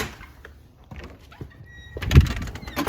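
A door opened on the way outside in the dark: soft rustles and small knocks, then a louder clunk and sliding scrape of the door, followed by a burst of outdoor noise, close and moderately loud.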